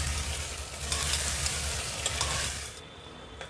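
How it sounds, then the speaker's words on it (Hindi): Tomato and green chili paste with salt frying in a pan, a dense close sizzle with repeated stirring scrapes that thins out near the end. "इसको भी अच्छे से मिला के और भून लें।"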